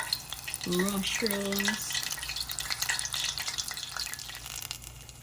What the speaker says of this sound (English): We're just gonna make it fry evenly on both sides